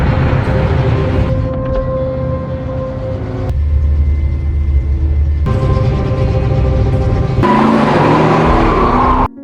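A car making a U-turn on a toll road in the 2021 thriller film The Little Things: a loud, close engine roar and rumble with tire noise, broken into sections by abrupt cuts and tense score.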